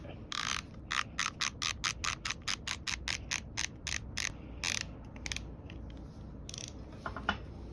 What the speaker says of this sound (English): So next we're going to get our socket, our 10mm socket. We got it on. Now let's get this thing tight.